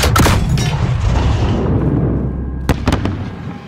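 A grenade explodes in the Call of Duty Modern Warfare game: one loud, close boom that rumbles and fades, followed by a few sharp cracks of gunfire.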